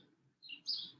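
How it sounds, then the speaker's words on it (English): Small birds chirp at a suet feeder packed with seeds, a few short high tweets then a louder bright call, fairly close over faint low background noise. "The birds agree with me."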